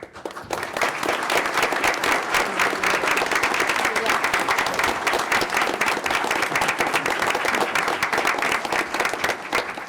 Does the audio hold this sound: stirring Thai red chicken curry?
no